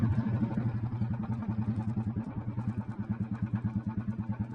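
An old Royal Enfield Bullet motorcycle idling close by, its single-cylinder engine thumping in a steady, even beat with a slight rhythmic unevenness, no voices.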